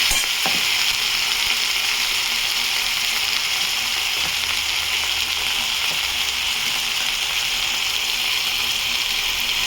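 Steady, loud sizzling of bhetki fish frying with potatoes and spices in a pan, a dense hiss that runs without a break, with occasional faint stirring scrapes and no talk.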